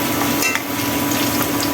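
Onions frying in hot oil in a home kitchen pan, a steady close sizzle with faint crackle and occasional stirring, no voices.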